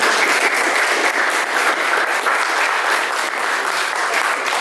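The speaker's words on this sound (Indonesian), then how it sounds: "Sekali lagi boleh kita kasih tepuk tangan." Steady applause from a crowd, dense and continuous clapping throughout, fairly close and loud.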